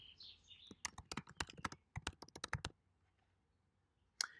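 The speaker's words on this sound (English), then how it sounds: "Just type a message." Quick bursts of keystrokes clatter on a computer keyboard in an irregular typing rhythm for about two seconds, close and fairly loud, then go quiet before a single sharp click; a faint chirp sounds at the start.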